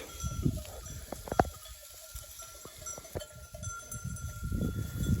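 A flock of milk sheep wearing bells moves through grain fields, with scattered, irregular clanks and jingles, mostly faint and somewhat distant, and the odd louder knock.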